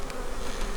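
Honey bees buzz steadily at a hive in a bee yard during a Demaree swarm-control inspection with laying workers, a dense close drone filling the short moment without voices.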